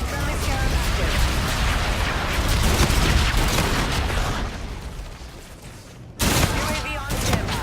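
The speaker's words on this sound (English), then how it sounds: "Friendly bombardment incoming." Video game gunfire and a friendly bombardment roar as a loud, dense, continuous barrage, briefly dipping before bursting back at full strength. Game voice callouts are mixed in.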